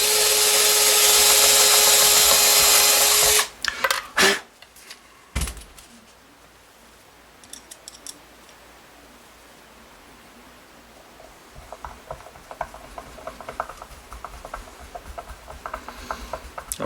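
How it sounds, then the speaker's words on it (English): Screw driven into the bottom hole of a red Fender Telecaster pickguard: a loud sustained burst for about three seconds, a few sharp clunks, then quiet handling rustles and light taps. "Always hold your screwdriver close to the base so it doesn't slip around on you."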